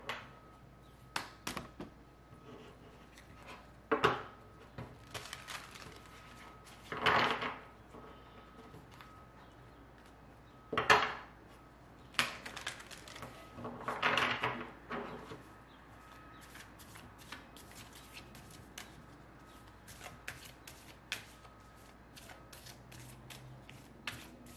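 Oracle cards being shuffled by hand, a few short papery riffling bursts spaced several seconds apart against a quiet room with faint scattered clicks.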